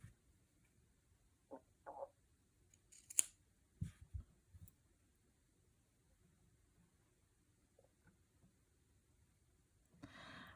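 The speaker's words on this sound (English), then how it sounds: "trim off this edge" Scissors trimming the edge of fabric for a no-sew collage, with a few quiet, separate snips spread across a mostly hushed stretch.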